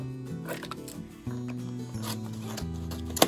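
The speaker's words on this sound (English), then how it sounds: "I'm just gonna cut the labels on each item" Scissors snip labels off food pantry items, giving close, dry cutting and rubbing sounds over a steady hum, ending in a sharper snip.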